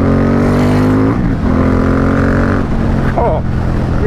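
A Ducati X Diavel S engine growls up through its rev range as the motorcycle accelerates at roughly 5,000–5,500 rpm, a loud close steady drone under wind noise with faint speech.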